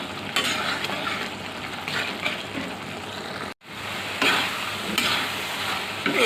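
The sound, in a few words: stirring and frying brain (mogoj) in a pan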